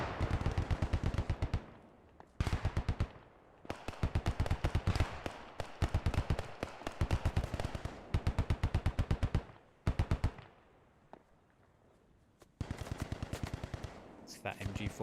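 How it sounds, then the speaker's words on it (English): A .50 cal machine gun mounted on a half-track fires in bursts during a Post Scriptum battle at Stone, 1944, loud and close, with rapid rhythmic reports broken by short pauses, and distant gunfire continuing between bursts. "that 50 cal machine gun with that half track"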